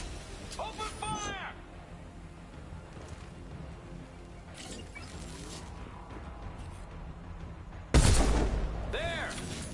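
Gunfire rattles through a firefight in the video game Mass Effect 2, with bursts of shots under voices talking, then a louder blast near the end.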